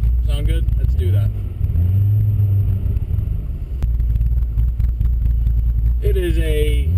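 Corvette engine idling with a deep, steady rumble throughout, close by and constant, with a person talking over it at the start and end.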